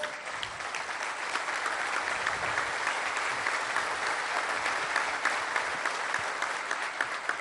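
A crowd applauding CFE electricity workers at a government event in Nayarit, steady dense clapping throughout, moderately distant and evenly sustained.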